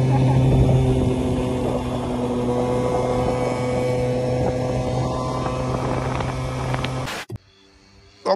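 A motorcycle engine idles and runs in a steady, loud drone for about seven seconds, then cuts off abruptly, leaving near silence with a brief thump at the end.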